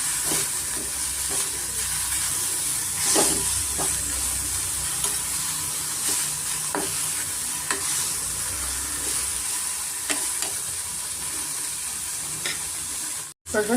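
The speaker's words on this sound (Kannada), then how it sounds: "ಎಣ್ಣೆಯಲ್ಲಿ ಕೊತ್ತಂಬರಿ ಕುದಿರೆ ಎಣ್ಣೆಯಲ್ಲಿ ಚೆನ್ನಾಗಿ ಫ್ರೈ ಆಗಿದೆ" Coriander and mint fry in oil for a green egg curry, a steady soft sizzle with occasional stirring scrapes and pops, close and continuous until a sudden stop at the end.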